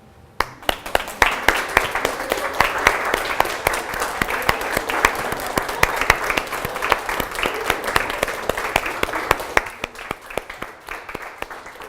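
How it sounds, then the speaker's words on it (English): A coaching workshop audience applauds steadily for about twelve seconds, with dense, close, overlapping claps at an even intensity before they thin out and stop. "give them a round of applause to say thanks for making it a good day for me"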